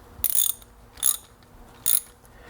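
A ratchet tightens a car's timing belt tensioner, giving three short, close bursts of crisp clicking separated by brief pauses, with no talking.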